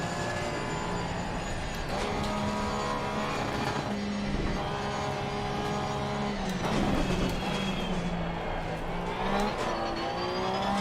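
Porsche race car engine in the Assetto Corsa Competizione racing game, British GT setting, droning steadily with rising and falling pitch through shifts and revs, loud and continuous for the whole stretch with other cars nearby.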